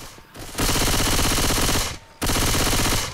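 Sustained automatic gunfire from a frag-round gun in the Left 4 Dead 2 video game, two long loud bursts separated by a short pause, close and continuous, with no voices.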